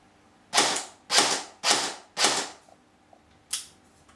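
An A&K M4 SIR electric airsoft rifle fires four quick, evenly spaced shots with a sharp mechanical snap. A fifth lone shot follows after a brief pause, all loud and close with no talking.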